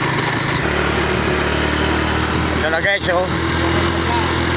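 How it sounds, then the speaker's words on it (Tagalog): A motorcycle labors up a steep mountain road, its engine buzzing steadily and strained close by, while someone talks over it. "Medyo hirap na yung motor."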